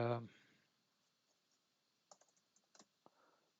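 A computer keyboard and mouse during software setup, with a soft burst of scattered clicks and a few quick keystrokes after a short moment of quiet, close and faint.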